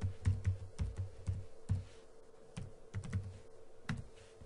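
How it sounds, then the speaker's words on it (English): An IP address is typed on a computer keyboard in short, uneven runs of light clicking keystrokes, close and moderately quiet, with no talk over it. "Now for my browser, I'll type in my IP address for my firewall."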